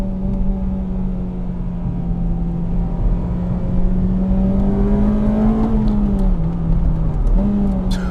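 A Honda Civic Type R FD2 engine revs hard and steadily climbs in pitch past the VTEC changeover near 6,000 RPM toward 8,400 RPM, droning loudly throughout, with a brief dip near the end as it shifts.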